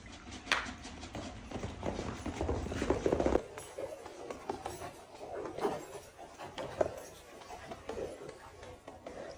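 Hooves of a bolting horse pound during a spaghetti Western music video shoot, a burst of heavy clattering beats that fades into scattered thuds and rustling outdoors, moderately close and without clear talk.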